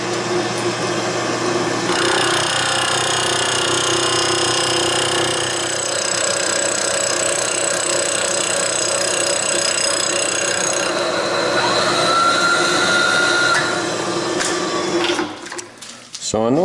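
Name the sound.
milling machine cutting metal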